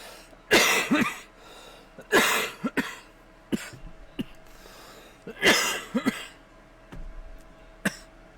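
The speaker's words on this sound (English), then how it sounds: "The thing that's making me cough is the keef." A person coughs in several separate bursts, some harsh and spluttering, with brief throat clears between them, close by in a quiet room.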